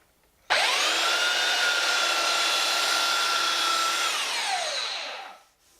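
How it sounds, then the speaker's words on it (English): Belt sander running on a wood airplane shelf part, a steady loud whine that starts abruptly, holds for about four seconds, then winds down as the motor spins off. "That belt sander really"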